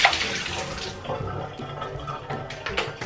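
Leftover water poured out of a humidifier base during cleaning, splashing and gurgling into a sink in an uneven stream that trails off into drips and small splashes, with no talk.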